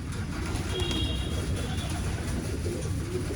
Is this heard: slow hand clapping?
no